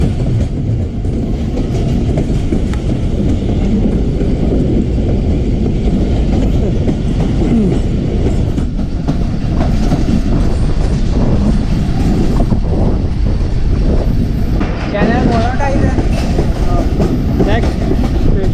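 The Ghouri Express 113UP passenger train runs on rails after leaving Sheikhupura railway station, a loud continuous rumble with steady clickety-clack and faint voices under it.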